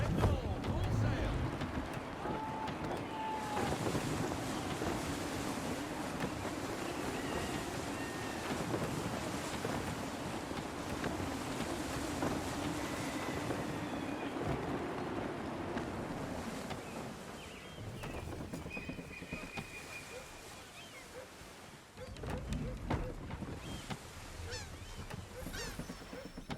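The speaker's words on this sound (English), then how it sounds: "Gusty winds can be difficult to manage." Gusty wind rushes steadily around a sailing ship in Assassin's Creed III, a broad faint roar with honking cries and a voice now and then, easing and swelling across the stretch.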